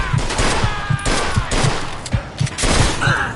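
A shootout in the Mafia II video game brings rapid, close gunfire in an evenly spaced string of sharp shots over a dense, noisy background.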